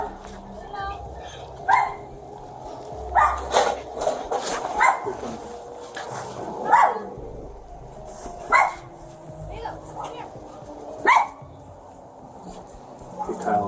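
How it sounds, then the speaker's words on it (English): A dog barks repeatedly in sharp single yips spaced a second or two apart, fairly close, over a low background hum and faint movement. "Here, let me grab the dog."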